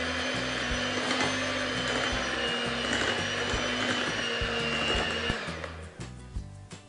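An electric mixer beats flour into whole wheat carrot cake batter with a steady, close motor whine and hum that cuts off near the end, followed by a few light clatters.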